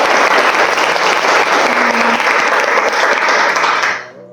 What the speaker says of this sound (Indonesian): Kita kasih aplaus untuk kalian semua.